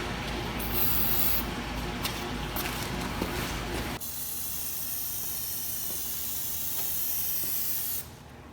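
Spray paint hisses steadily from a can as a coat goes onto a Duramax pickup's grill, a close continuous spray that cuts off partway and resumes softer before stopping near the end.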